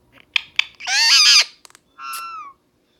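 A pet bird gives a few sharp chirps, then a long, loud, wavering squawk, a couple of quick clicks and one shorter call, all close and alone in a quiet room.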